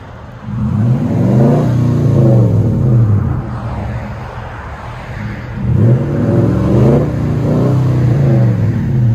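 A 2008 Nissan Titan 5.6L V8 with a Flowmaster Super 40 true dual exhaust revs hard twice with a deep, throaty rumble, dropping back to a lower idle between the bursts; loud and close.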